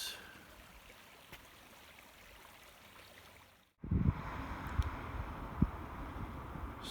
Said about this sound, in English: A beautiful stream